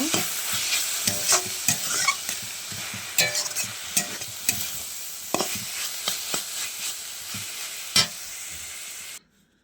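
Ground garam masala paste being stirred into a frying cabbage and peanut dish in a pan, a steady sizzle with rhythmic close scraping strokes of the spatula, ending abruptly.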